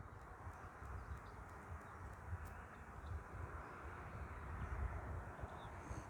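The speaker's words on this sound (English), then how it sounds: "Just watch how slow you can bring this airplane in." An E-flite Habu STS 70mm electric ducted-fan RC jet approaches slowly to land on a grass field, its engine a faint, steady whooshing drone with occasional bird calls in the distance.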